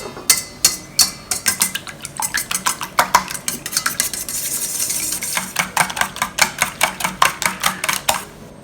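Seven eggs with half a teaspoon of salt being whisked in a bowl, with a steady run of quick, sharp utensil clicks against the bowl's side, close and rhythmic throughout.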